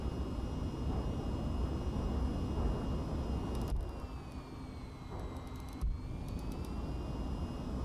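Engines of a VTOL aircraft in the VTOL VR game, a steady loud roar with high whining tones that drops in level and shifts pitch partway through, then swells again, with no talk.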